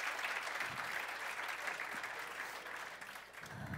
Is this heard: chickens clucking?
no